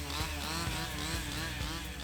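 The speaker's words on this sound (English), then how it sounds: "those who are operating the chainsaws start working" Chainsaws run continuously while cutting during a harvest, a loud steady two-stroke engine drone with slight rises and dips in revving, close by and without talk.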